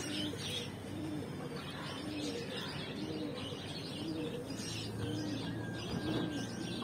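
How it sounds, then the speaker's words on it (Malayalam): A native pigeon coos among other birds in Kerala, soft repeated coos with light chirps over faint outdoor background. "അതാ അവിടുത്തെ നാടൻ പ്രാവ തോന്നുന്നുണ്ട്."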